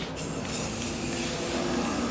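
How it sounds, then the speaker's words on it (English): An aerosol spray can steadily misting a coat onto a workpiece held about six inches away, a continuous close hiss running without a break and with no talking. "You can just leave it down, and you can just spray it down."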